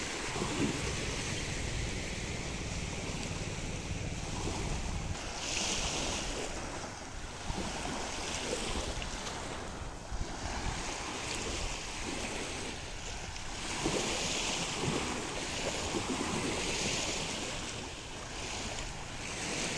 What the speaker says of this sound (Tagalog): hindi natin alam kung safe maligo dito sa dagat na to